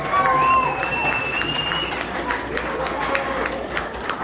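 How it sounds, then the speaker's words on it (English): Crowd applause at an outdoor memorial gathering for Randy Jones, a steady wash of clapping mixed with scattered cheers and chatter, with a whistle-like tone near the start. "give yourself a round of applause for being out here"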